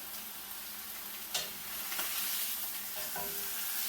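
Ribeye steak seared from cold in a pan gives a steady, close broadband sizzle, with a sharp clack near the start as the meat is turned and a few brief utensil scrapes later; no one speaks.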